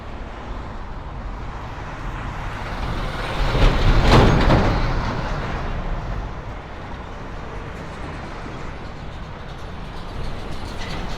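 Steady Manhattan street traffic rumbles near a busy intersection by a Brooklyn on-ramp, with one louder vehicle swelling past midway and then fading back into the constant wash of passing cars.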